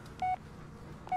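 Phone keypad dialing in the Blair Witch video game: two short, crisp touch-tone beeps about a second apart over a low, murky ambient background.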